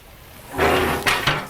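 A steel door on a Gator Pit barbecue smoker with a 4-foot cooking chamber swings shut, a broad scraping rush followed by two quick metallic knocks as it seats, close and fairly loud.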